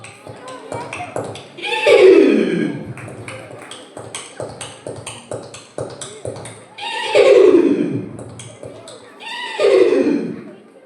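A person imitates a horse during a mimicry act at a church feast-day celebration, producing three loud, descending whinnying neighs separated by tongue clicks mimicking hoofbeats.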